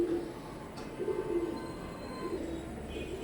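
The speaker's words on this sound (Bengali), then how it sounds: "স্ক্রিনে এখন যে কবুতর জোড়া দেখতে পারতেছেন, এটা কান্টাওয়ালা টেডি বলে অনেকেই" Pair of Kantawala Teddy pigeons of an imported Oman bloodline, cooing as a few soft, low, brief coos under steady background noise, with no talking.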